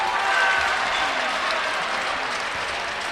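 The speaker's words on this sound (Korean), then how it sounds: "충분히 만족스러운 표정으로 박수를 보내줬습니다" A crowd applauds at a Korean professional basketball game between Orions and Elektroland, steady distant clapping filling the arena with faint broadcast commentary under it.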